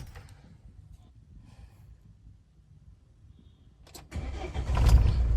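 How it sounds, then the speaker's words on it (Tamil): Mahindra Scorpio engine cranking with a brief click, then catching and settling into a loud, steady idle close by after a few quiet seconds. "வண்டி ஸ்டார்ட் ஆகுது பாருங்கள்."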